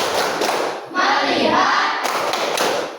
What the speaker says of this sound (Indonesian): Ayo, tepuk fokus.